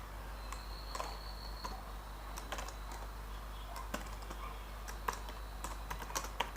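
Quiet, irregular keystrokes on a computer keyboard, light clicks scattered over several seconds with a few sharper taps, faint against a low steady room hum.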